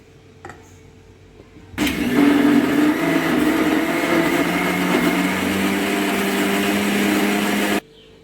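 A kitchen mixer grinder whirs steadily as it blends a mango ice-cream mixture, starting abruptly from near silence, running loud and continuous for about six seconds, then cutting off sharply.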